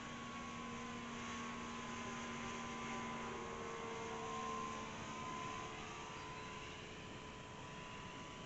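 An LX P-40 radio-controlled model warplane with a 2000 mm wingspan flies throttled back, its electric motor making a steady, fairly faint drone with a few sustained tones, and nobody speaks.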